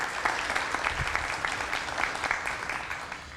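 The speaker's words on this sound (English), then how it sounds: "Let's give him a big round of applause, although he's not here." Steady applause from a dinner audience in a banquet hall, dense and sustained at moderate volume, filling the room without talk.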